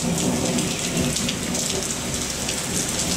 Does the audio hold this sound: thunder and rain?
yes